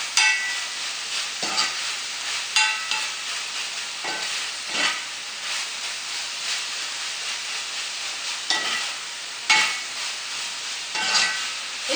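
Beef and green beans stir-fry with vinegar in a pan, giving a steady close sizzle and hiss broken by repeated scraping, stirring strokes, with no talking.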